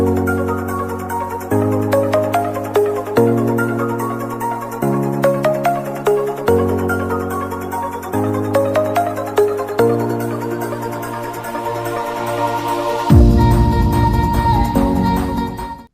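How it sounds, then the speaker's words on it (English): Trending TikTok phone ringtones play one after another, loud electronic melodic tunes with a steady repeating rhythm and no talking, a brighter noisier track arriving near the end. "Top 5 Trending Ringtones, TikTok edition."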